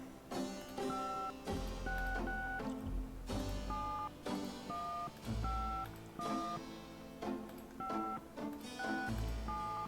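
House telephone keypad in the Gabriel Knight video game, with a series of dual-tone dialing beeps in short clusters repeating over about ten seconds against a low background.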